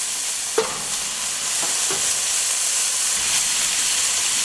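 Bread frying in rendered bacon fat inside a Dutch oven gives a steady, close sizzle and hiss, broken by a few soft stirring scrapes near the start.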